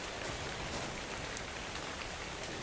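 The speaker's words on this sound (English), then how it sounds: "The rain." Rain in the survival game Ark: Survival Evolved, a dense, even hiss of falling drops with no talk.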